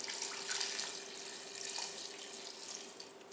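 Tap water runs steadily into the inner pot of an Instant Pot being filled for bone broth, a continuous hissing splash with slight surges, close and moderately loud.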